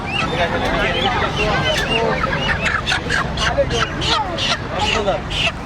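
Live chickens cluck and squawk in short, repeated bursts amid a noisy crowd, with several people talking loudly close by throughout.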